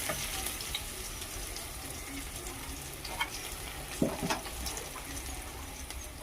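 Chopped onion, green chilli and garlic frying in hot oil for a kalmi shak fry make a faint, steady sizzle, with a few soft clinks of a utensil near the middle.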